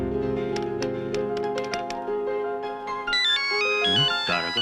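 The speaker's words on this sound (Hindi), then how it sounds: "तारा का फोन" A mobile phone's ringtone plays loud and clear, a steady electronic tune of bright repeating notes that shifts into a higher melodic phrase near the end, with no voices.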